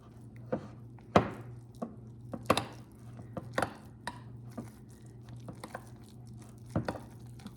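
Baked ziti is mixed with Parmesan cheese in a bowl, a spoon striking and scraping in irregular knocks and soft squelches, close and fairly quiet against a low background hum.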